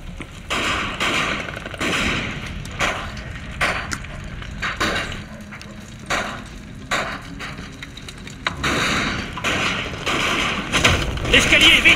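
Gunfire from an MP40 submachine gun in a World War II shooter video game, sharp bursts repeating throughout amid game noise, with voices speaking over the action.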